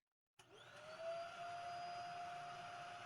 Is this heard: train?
no